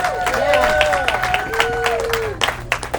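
Guests clapping at a 25th wedding anniversary celebration, scattered applause under a prominent voice with tonal, sung or called-out lines in the foreground.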